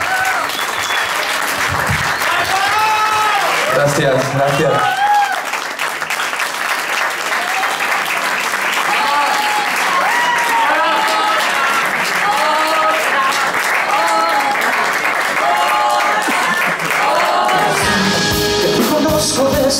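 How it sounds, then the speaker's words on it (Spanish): A concert audience in Madrid gives loud, sustained applause with scattered cheers for the musicians, while a performer briefly says thanks over the clapping near the start. "Fuerte aplauso para estos hermosos músicos."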